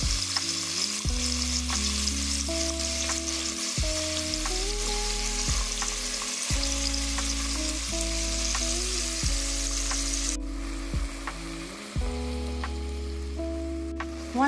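Steak searing in a pot for steak chili, a steady loud sizzle of frying meat running throughout, with occasional louder spits and crackles, no voices.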